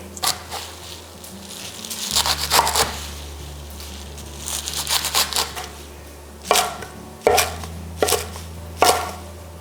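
Knife chopping kale on a cutting board for a vegan salad: bursts of quick, crisp chops at close range, with pauses between runs and a low steady hum beneath.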